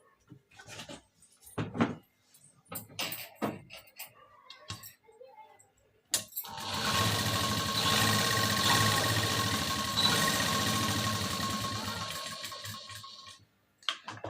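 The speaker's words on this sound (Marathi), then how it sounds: "आता लगेचच आपण इथे डबल शिलाई देऊन घ्यायची आहे" Sewing machine running steadily for several seconds while double-stitching a katori blouse, loud and close, after a stretch of sparse handling clicks and rustles.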